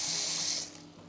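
Cold tap water gushing into a sink to cool boiled tomatoes, a close, steady hissing stream that tapers off after a moment.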